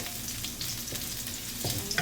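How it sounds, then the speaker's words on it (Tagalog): Ginger frying in a pan for adobo galunggong with chili, a dense, close, continuous sizzle with a few louder crackles and stirring knocks, no voices. "So, i-fry muna natin yung luya."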